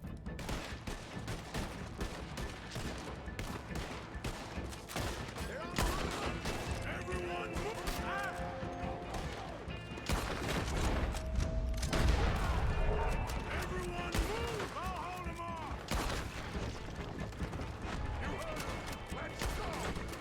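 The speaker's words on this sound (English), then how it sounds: "God, there's so much gunfire." Dense, continuous gunfire in Red Dead Redemption 2, with rapid cracks and bursts from several weapons, loud and chaotic, with a voice talking faintly underneath.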